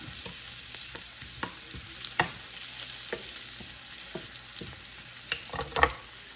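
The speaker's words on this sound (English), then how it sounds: "I'm gonna salt and pepper these carrots and move them around a little bit." Carrots sizzling in a pan while being stirred and moved around, with soft steady frying hiss and scattered scraping clicks of the utensil, fairly quiet and without voices.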